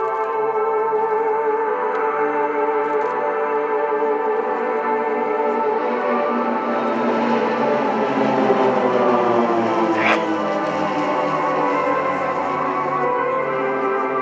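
Propeller aircraft flying in formation at an airshow, cruising near 350 km/h, produce a loud, steady droning roar that swells slightly as the group passes, with no talk heard.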